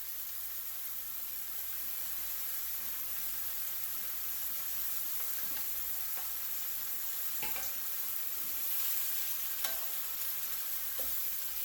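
Pork fried rice sizzles in a pan with soy sauce and Sriracha, a constant bright frying hiss with occasional stirring scrapes, close and alone.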